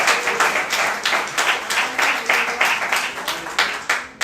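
A church congregation claps loudly in a strong, rhythmic unison beat, close and energetic, with regular pulses of hands striking together for several seconds before tapering off.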